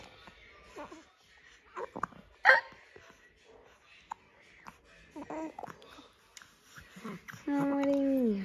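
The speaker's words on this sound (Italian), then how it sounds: "chi è che ha il singhiozzino?" A baby gives small, soft hiccups amid a mother's quiet, affectionate talk indoors, with one sharper click midway and a steady tone at the end.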